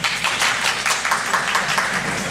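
An audience at a conference plenary session claps and cheers together, a dense continuous wash of applause with no pauses.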